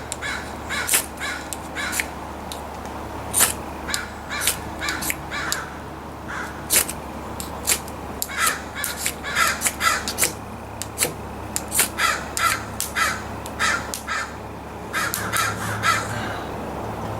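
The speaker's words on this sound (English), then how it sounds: "Quiet, crow." A crow caws repeatedly outdoors in loud, harsh calls arriving in uneven bursts and pairs, fairly near, over a quiet low hum with no talking.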